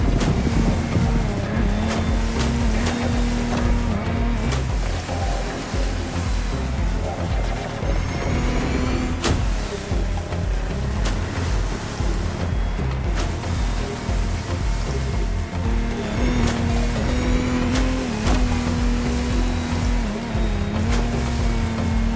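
Boat engines drone steadily beneath crashing ocean waves during a stormy open-water boat race in The Crew Motorfest, a continuous loud roar with a low engine tone sustained throughout.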